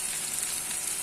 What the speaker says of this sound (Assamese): তো এইখিনি অকণমান টাইম ফ্ৰাই কৰিম।